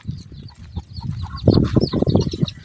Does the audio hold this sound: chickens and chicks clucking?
yes